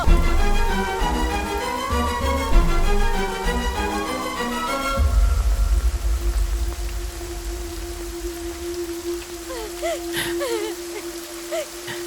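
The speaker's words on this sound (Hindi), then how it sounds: "पापा, आप इस तरह तूफानी बारिश में क्यों खड़े हैं?" Heavy stormy rain pours at night, a broad steady wash of downpour rising after music fades out in the first seconds, with a sustained hum and faint chirps over the rain.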